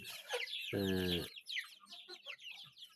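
Chicks and young roosters cluck and cheep in a shared pen, with one louder, sustained harsh call standing out among busy high chirps close by.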